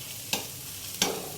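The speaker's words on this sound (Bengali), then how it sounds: "বড়াটা ভালোভাবে ভাজা হচ্ছে।" Poppy seed fritters (posto bora) fry in a little oil with a low constant sizzle, broken by two brief sharper crackles.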